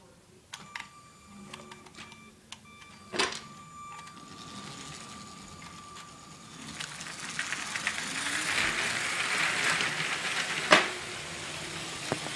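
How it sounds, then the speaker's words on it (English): A motorized Lego toy train, part of a Lone Ranger themed build, starts up with faint clicks and taps, then a soft whirring, rattling run that grows louder toward the end, close by in a quiet room. "power up the train."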